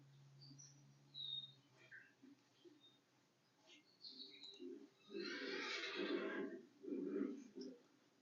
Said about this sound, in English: Noisy horses.